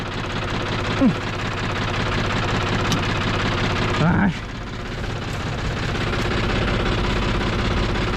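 A brush cutter engine runs steadily in an oil palm plantation, a loud close buzzing drone with a brief rise in pitch partway through, and a voice speaks over it.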